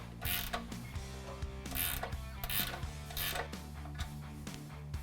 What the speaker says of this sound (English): reach up here with the 16 mil wrench